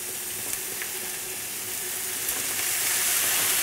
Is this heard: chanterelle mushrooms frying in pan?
yes